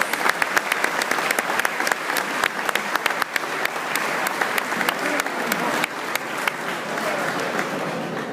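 Warm applause from an audience in a tribute ceremony for Raúl Alfonsín by UCR Buenos Aires, a dense, steady crowd clapping with distinct sharp claps sounding throughout and holding at an even level.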